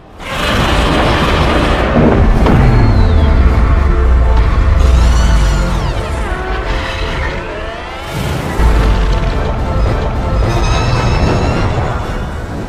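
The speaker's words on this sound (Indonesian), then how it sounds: "Kelebihan energi di tubuh Ghidorah membuatnya meledak." Ghidorah explodes in a Godzilla monster film as a loud, deep, rolling boom with long rumbling bass, swelling roars and whooshing layers, then a second heavy surge before slowly fading.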